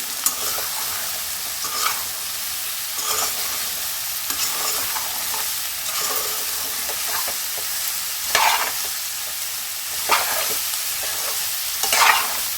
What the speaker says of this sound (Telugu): బీరకాయలు మంచిగా కలుపుకోవాలి.